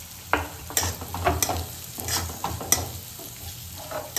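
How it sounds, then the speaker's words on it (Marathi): Fried onion with turmeric is stirred in a hot pan, giving a constant sizzle broken by irregular scraping and tapping strokes of a spoon, close and fairly loud. "त्याला मिक्स करून घेणार आहे आपण."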